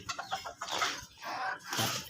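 Modern game bantam chickens, brown red and hens, clucking in a backyard coop, a series of short close clucks and squawky calls in quick bursts with brief pauses between.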